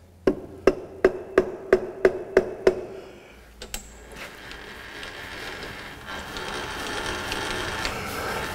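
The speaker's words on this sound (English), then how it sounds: "Hit it on the fixed part of the vise." A hammer strikes metal clamped on the fixed part of a vise in a fitting and turning workshop: eight sharp, evenly spaced ringing blows close by, then a clank and a rougher, steadier scraping noise.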